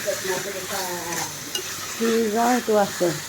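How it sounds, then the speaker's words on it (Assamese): Salted duck curry stirred in a pan over a low sizzle, with intermittent scraping strokes while someone talks over much of it. "নিমখটো দিয়াৰ পিছতে মই লৰাই দিছোঁ"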